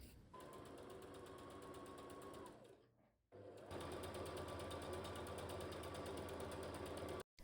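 A sewing machine stitches the hem of a mesh stretch dress in two steady runs, a loud rapid mechanical whir that stops briefly, then resumes before halting at the end.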